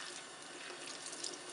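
Warm tap water runs steadily over an oil paint brush being rinsed, a continuous hissing splash from a faucet into a sink, close and even for the whole stretch.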